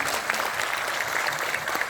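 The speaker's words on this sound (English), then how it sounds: "Please give them a round of applause once again." Applause from an audience for the cast at a film trailer launch event, dense steady clapping sustained throughout at a fairly loud, even level.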